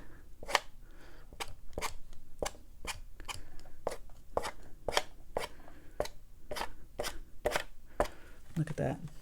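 A tool rhythmically scrapes wet watercolor paint off paper in an abstract landscape painting, a steady run of sharp, close scratching strokes roughly once or twice a second.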